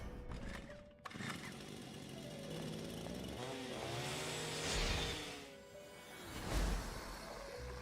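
A chainsaw-like engine buzzes and revs continuously in Persona 5 Royal, a rough, fluctuating motor drone that swells louder midway and again near the end.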